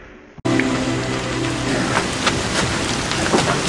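Heavy rain pours down outdoors, beginning abruptly after a brief quieter moment and continuing as a dense, loud, steady hiss with scattered louder drops.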